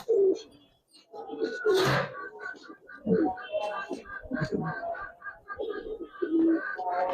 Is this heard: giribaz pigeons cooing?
yes